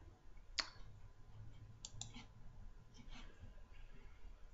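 A few sharp computer mouse clicks, one distinct click followed by a quick pair and then a softer click, quiet and close over faint room hiss.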